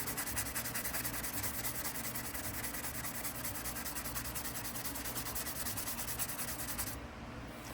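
Folding hunter knife sanded by hand with 2,000 grit pads, a faint, continuous rubbing and rasping that stops abruptly near the end.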